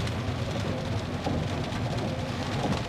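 Heavy rain pours steadily in Châu Thành, Vietnam, with deep thunder rumbling underneath, forming a dense, continuous wash of sound with no speech.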